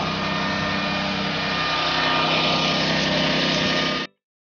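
A grinding machine mills dried red ginger with a loud, steady whirring drone that runs without a break for about four seconds, then cuts off abruptly.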